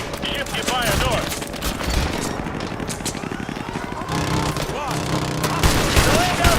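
Dense gunfire in the video game Modern Warfare 2 Remastered crackles in rapid bursts and volleys throughout, with shouted voices over the shooting.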